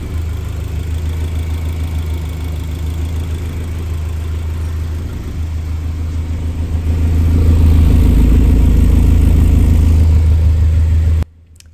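A Honda K20a engine swapped into a Toyota MR2 Spyder runs through a newly built custom exhaust, idling with a deep steady drone, then revving up louder and holding before cutting off abruptly at the end.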